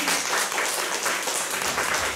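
A church congregation gives a full round of applause during a Sunday worship service, many hands clapping in a dense, even wash that holds steady at close range.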